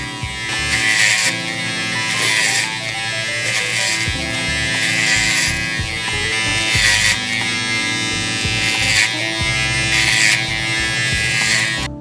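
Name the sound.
hair clippers with 3 guard cutting hair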